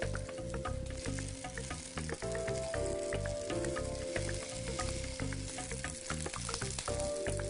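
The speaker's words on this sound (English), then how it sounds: "You're looking to brown all sides of the onions" Onions brown in olive oil in a Dutch oven, a dense, even sizzle and crackle that runs throughout, close and steady, with a faint rhythmic thumping underneath and no talking.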